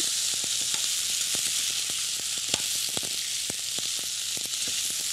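Green beans sizzling and being stirred in a hot frying pan, a steady close frying hiss with repeated light scraping taps.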